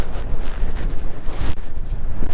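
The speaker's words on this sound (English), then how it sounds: "Here comes a whole bunch of wind." Strong wind gusts buffet the microphone at an ice fishing camp on frozen Panguitch Lake, Utah, a loud, rough, pulsing rumble with bursts surging and easing, no voices.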